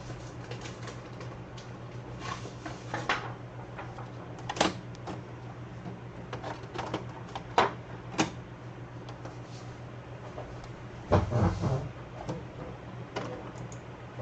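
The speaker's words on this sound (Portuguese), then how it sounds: "Deixa eu colocar papel aqui na impressora." An office printer takes in loaded paper and prints, giving a steady mechanical hum with scattered clicks and feed bursts, plus a louder run of rollers near the end, close by and with no talk.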